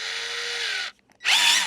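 A power drill bores a hole in a throttle-build wall panel, running in two loud, close bursts separated by a short pause.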